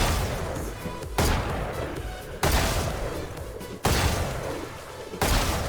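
Gunshots fire in Valorant during strafing practice, four loud, sharp reports spaced roughly a second and a half apart, each trailing into a ringing decay before the next, with no talk.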